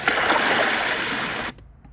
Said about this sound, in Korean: 바다에 가까이 있으니까 또 파도 소리 또 써요.